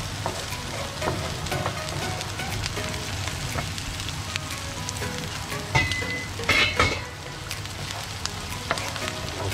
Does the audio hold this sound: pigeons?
no